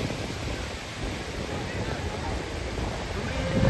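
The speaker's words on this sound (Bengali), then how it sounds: "সমুদ্রের ঢেউ, সমুদ্রের হাওয়া" Sea waves roll in at a beach near Puducherry or Chennai while sea wind buffets the microphone, a continuous roaring rush swelling slightly toward the end, with no speech.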